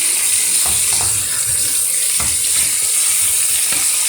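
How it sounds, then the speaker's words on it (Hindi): Tomatoes and sheep liver pieces frying in fat from a dumba tail, a loud continuous sizzle with a few brief stirring knocks and scrapes underneath, no voices. "बस इसी में मैं अब ये टमाटर और ये टिक्के भून लूँगी।"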